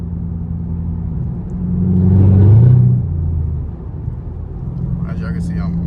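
A catless sixth-generation Chevrolet Camaro SS V8 exhaust with dual tips rumbles steadily from inside the car, swelling briefly as the engine revs up mid-clip before settling back to a low idle-like drone.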